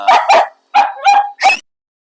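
A dog barks five times close by in two quick pairs and a final single bark, loud and sharp with brief pauses between.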